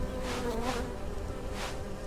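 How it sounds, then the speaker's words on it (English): Bees drone in a low, steady buzz in Conan Exiles, swelling and fading in a few soft pulses over a faint background, with no voices. "I hear bees."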